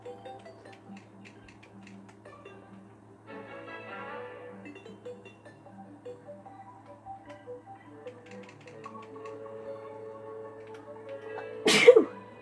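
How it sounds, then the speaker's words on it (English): A single sharp sneeze near the end, from a player during a Terraria game session, rises loudly over steady ticking and soft game sounds. "I just sneezed"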